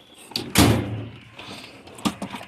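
Drawer of a 72-inch US General Series 3 steel tool box sliding open in a garage, a loud metallic rolling rush followed by a softer clunk near the end.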